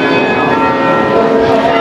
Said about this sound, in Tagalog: Tumutunog ang kampana.